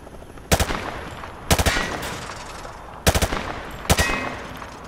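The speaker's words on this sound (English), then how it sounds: "He sprayed bullets all over the damn place." Rifle fired from the hip at targets on a shooting range in Call of Duty: Modern Warfare 2 Remastered, heard as four loud, close bursts of rapid automatic shots separated by short pauses.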